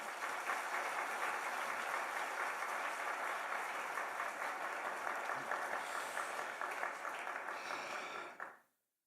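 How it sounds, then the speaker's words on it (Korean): A church congregation in Geochang claps warmly to welcome a pastor to the front, with a long, even burst of many hands that holds steady and then fades quickly to silence at the end. "우리 목사님 나오실 때 뜨거운 환영의 박수 하도록 하겠습니다."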